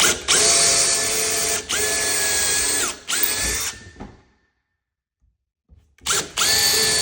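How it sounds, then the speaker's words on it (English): A power drill whines loudly in several bursts, drilling holes in a cabinet door, pausing briefly between holes, then falls silent for about two seconds before spinning up again. "So now I'll just take my drill, put it right on this little mark I made"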